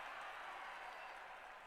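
Audience applause at a speaking event honoring a technocrats group, a steady dense wash of clapping held at even loudness without a break.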